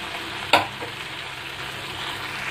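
Two large chicken leg pieces deep-fry in hot oil, KFC style, giving a steady close hiss and bubble with one sharp crackling burst near the start.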